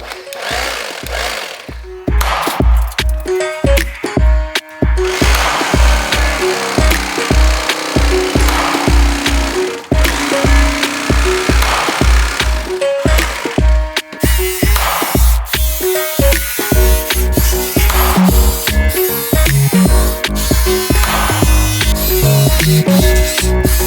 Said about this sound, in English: All right, I've got a turkey carving knife.